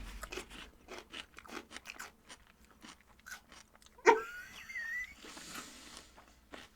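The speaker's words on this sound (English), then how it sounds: "Celery with cottage cheese and mustard. You got to crunch right by your mic" Celery with cottage cheese and mustard being bitten and chewed right at a microphone, a string of close, crisp crunches with one sharp loud snap midway, followed by faint breathy noise.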